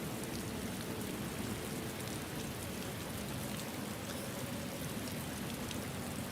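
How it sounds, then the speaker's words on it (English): Steady, loud rain pours continuously as a dense, even hiss of falling drops with no pauses and no voices. "for me the rain is very loud"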